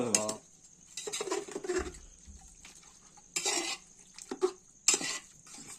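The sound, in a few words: stirring rice and chicken in a pot on a wood stove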